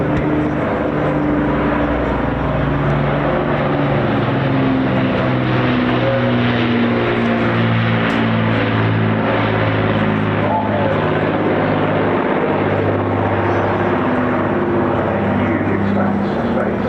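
A rugged propeller aircraft at the Bournemouth Air Festival drones loud and steady overhead, its deep throbbing engine note holding for the whole stretch with a slowly shifting pitch, while a commentator's voice runs over it.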